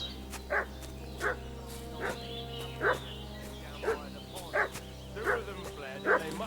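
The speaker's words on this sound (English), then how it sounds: "What's that dog making such a fuss about?" A dog in the video game Kingdom Come: Deliverance II barks at regular intervals, about eight short barks, moderately near, over a steady low background hum.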